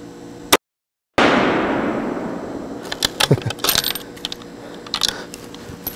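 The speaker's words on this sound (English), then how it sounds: "Let's shoot one more right here." A Savage 110 High Country rifle fires one sharp shot that rolls away in a fading echo. A scatter of light metallic clinks and handling noises follows.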